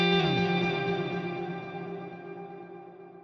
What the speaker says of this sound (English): I'm going to turn the feedback up on delay line 1 and have a listen to what that does.